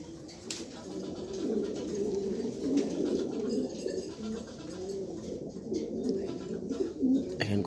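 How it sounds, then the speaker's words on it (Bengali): A female pigeon coos softly in repeated low, rolling calls, close by and fairly steady, with faint background noise and no talking. "এখানে আজকে একটা মাদি কবুতর আছে সবজি, খুব সুন্দর দেখার মতো একটা মাদি"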